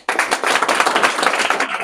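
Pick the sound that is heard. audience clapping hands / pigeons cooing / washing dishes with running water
audience clapping hands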